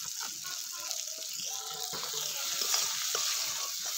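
Cabbage mash with turmeric and Kashmiri chili powder stirred in a pan, a steady close wash of sizzling and scraping that runs continuously with no break, no talk over it.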